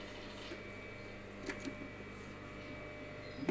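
A sewing machine stitches a 0.5 cm seam along both edges of a fabric mask, making a faint, steady mechanical whir with a few soft clicks and a louder knock at the end.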